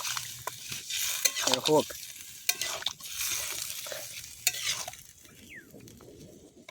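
Chicken kosha with potatoes stirred and sautéed in a pan outdoors in a forest, with scraping stirs, sizzling and a few utensil clinks in irregular bursts while people talk nearby.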